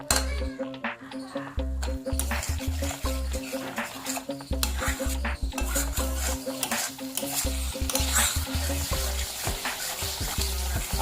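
Dal being stirred into cooked meat for haleem, thick wet stirring and scraping in a pot with occasional clinks of the spoon, partly under steady background music.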